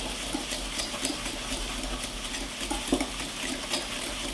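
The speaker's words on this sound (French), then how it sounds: "je viens mélanger le beurre et le sucre" Butter and sugar are mixed in a bowl, producing a continuous soft scraping and stirring with occasional light knocks against the side, close and steady.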